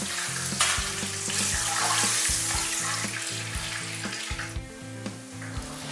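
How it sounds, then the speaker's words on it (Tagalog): Chicken frying in hot oil gives a steady, loud, close sizzle that runs throughout, with faint rhythmic knocks underneath and no talking. "At ituloy na natin yung pagprito pa ng iba pang mga natirang chicken"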